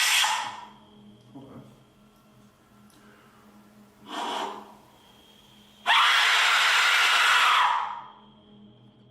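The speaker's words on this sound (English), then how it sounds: "now it's time for a scream with an Aztec whistle." An Aztec death whistle lets out a long, loud, harsh rushing scream near the end, preceded by two shorter breathy bursts, all with a faint steady hum in the background.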